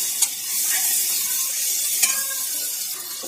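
Garlic-ginger paste frying in a pan with a steady, close sizzle, punctuated by a few sharp scrapes of a spoon stirring against the metal.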